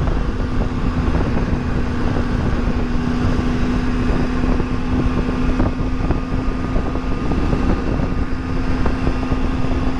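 A 2019/2020 Triumph Tiger 800 XCA motorcycle cruises at about 70 km/h, its engine holding a steady drone under constant rushing wind noise, with no change in pace throughout.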